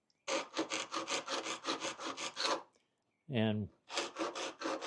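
A scribe scratches marks into the metal of a sump on a 1967 Triumph TR6, making repeated rapid rasping strokes close up. A brief pause follows, a single spoken word cuts in, then the scraping resumes.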